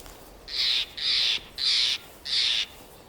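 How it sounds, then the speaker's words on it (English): Four harsh, evenly spaced rasping calls of a Steller's jay ring out in a snowy Yosemite winter setting, each lasting about a third of a second, fairly loud against a faint background hiss. "the piercing call of a Steller's jay cuts through the winter air like a crystalline bell"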